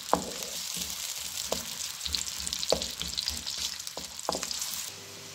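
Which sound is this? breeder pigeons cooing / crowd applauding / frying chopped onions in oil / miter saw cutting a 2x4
frying chopped onions in oil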